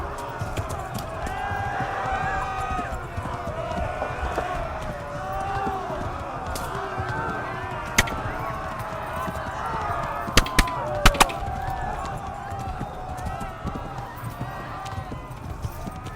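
A horse gallops in a medieval video game, a steady rhythmic clip-clop of hooves under constant music and someone talking, with a few sharp cracks standing out.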